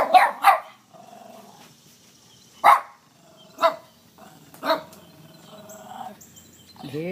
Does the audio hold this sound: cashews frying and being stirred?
no